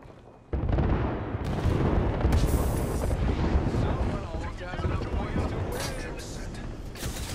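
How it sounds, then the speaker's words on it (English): Airstrike in the video game Apex Legends, a sudden heavy blast followed by sustained rumbling explosions and crackling debris, loud and close, with voices talking over it. "Airstrike."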